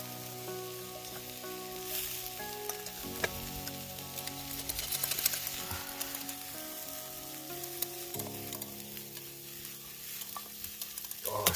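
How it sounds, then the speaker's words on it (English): Potatoes boil in a pot at a Crown Land campsite near Greater Sudbury, a soft continuous bubbling and sizzling hiss with faint clinks, quiet and steady with no talk. "this one I'm just boiling some potatoes"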